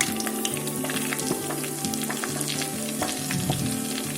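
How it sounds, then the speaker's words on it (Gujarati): Gram flour tipped into hot ghee in a kadai for mohanthal, giving a steady, close sizzle and frying crackle that holds evenly throughout with soft stirring scrapes and no voices. "તેમાં આપણે ચણાનો લોટ નાખીશું."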